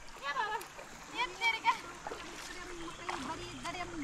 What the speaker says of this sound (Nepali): ओहो खोला खुट्टा हालेपछि त क्या आनन्द आयो